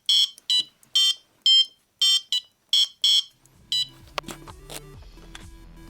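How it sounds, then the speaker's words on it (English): Small buzzer driven by an Arduino playing MIDI notes, a series of harsh, thin, square-toned beeps in a stop-start melody, followed by a denser run of buzzy tones with a low hum beneath, close and fairly quiet. "I then tried the same thing with a buzzer, which sounds similar, but a bit worse."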